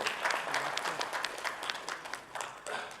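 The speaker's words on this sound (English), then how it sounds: "So a big round of applause for Sagar Sule and team also." Audience applause at a corporate cheque distribution ceremony, a steady wash of many hands clapping at moderate distance, fairly even throughout.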